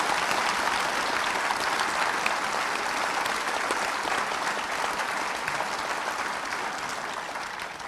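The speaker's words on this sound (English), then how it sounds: "Can we give all of those people a round of applause?" Sustained audience applause at a university graduation ceremony, a dense, steady roar of many hands clapping throughout, slowly easing toward the end.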